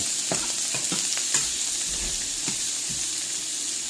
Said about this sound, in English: You want to basically cook the onion here until they're lightly golden brown.